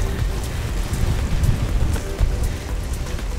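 Heavier rain pours at Milford Sound, a loud, dense hiss of drops with sharper nearby splatters and a deep rumbling undertone, steady throughout with no talking.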